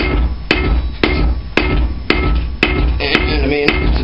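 Steady hammer blows on hot steel with a round forging die, about two strikes per second, loud and close, ringing alone without talk.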